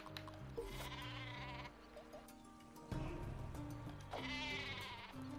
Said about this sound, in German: Sagen wir, ich pack hier mal die Schafe.